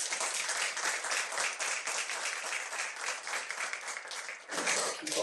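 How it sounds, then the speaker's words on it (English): Sustained audience applause at a school ceremony, a dense wash of many hands clapping at even loudness, with a short dip before it swells again near the end and no talking. "So big round of applause for our."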